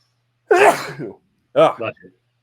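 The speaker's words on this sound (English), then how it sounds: "And I'm about to sneeze." A single close, loud sneeze with a sharp inhaled build-up, followed by a brief murmured voice.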